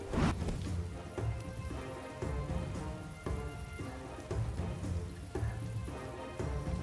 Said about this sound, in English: Look, the rain's here.